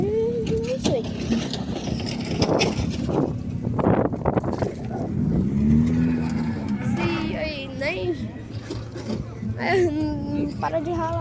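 Loud car engine and exhaust revving at an outdoor car meet, a rough roaring drone with rising and falling revs under a crowd of shouting voices and nearby talking.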